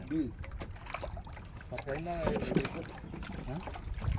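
A small boat moves on open water at a reservoir, a soft wash and lapping with wind buffeting the microphone, while people talk over it nearby.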